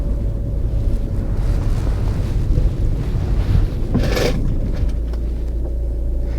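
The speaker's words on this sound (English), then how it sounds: "You can hear water sloshing around then." Water sloshing around in the boot of a Volvo V50, a low rumbling swash under steady wind-like noise, with a brief brighter splash midway as the water shifts.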